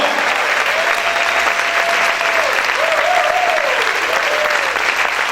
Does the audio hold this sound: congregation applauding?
yes